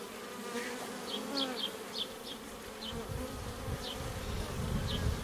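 Honeybees humming steadily over an open hive frame of a Miniplus hive, a dense continuous buzz with brief higher whines of individual bees flying close by.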